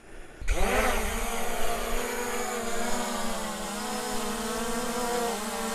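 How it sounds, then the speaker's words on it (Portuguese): F11S 4K Pro drone's motors spin up abruptly and settle into a loud, steady whine and buzz that holds without pause. "Então vamos lá, vou ligar aqui os motores."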